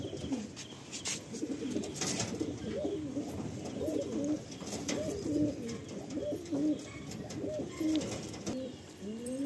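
A male and female pigeon pair released in Kolkata, giving repeated soft, throaty coos in a loose rhythm, close by and clear over light background noise.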